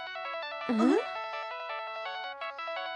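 A phone ringtone in a Shin-chan cartoon plays a bright, repeating electronic melody at steady volume for the whole clip, with a short voice cutting in near the start.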